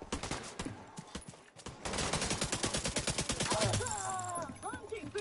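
Rapid bursts of gunfire from The Division 2 shooter game crackle in dense volleys, with automatic fire building into a sustained loud fusillade and brief pauses between; faint voices sit underneath.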